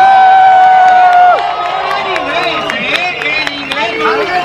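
A crowd at a Guinness world record event cheering and whooping for the record holders, loud and continuous, with shouts and voices mixed into the noise.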